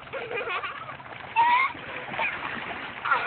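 A dog splashing in river water while being washed, with a few close splashes and watery sloshes over a muffled outdoor background.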